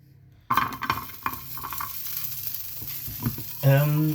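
Acorns sizzle and crackle roasting in a hot dry frying pan with occasional stirring and scraping, steady and close, ending in a louder hiss.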